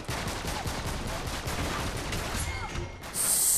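Rapid gunfire from the video game Uncharted 3 during an online match, a dense continuous burst of shots close and loud throughout, ending in a sharp bright hiss.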